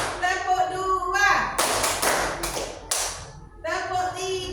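A group claps hands in the rhythmic 'tepuk 5' game. Spoken counting frames several broad bursts of clapping in the middle. The claps are fairly loud and close, set in a room with people talking.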